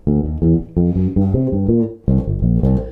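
A bass guitar plays a short, punchy funk fill in the low register, a brief rhythmic phrase, then a gap before another burst of notes.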